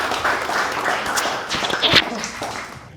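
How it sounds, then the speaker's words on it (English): A live audience claps for an investor panel at a startup pitch night, a steady broadband patter of many hands lasting the whole stretch with a slight swell near the end. "Let's give our investor panel a quick round of applause."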